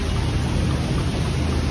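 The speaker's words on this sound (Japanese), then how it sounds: "今フィリピンは雨季で、毎日もうこの時間はこんな大雨がざーっと降ります" Heavy rain pours down during the Philippine rainy season, a loud, dense, unbroken roar that holds steady from start to end, with no voices.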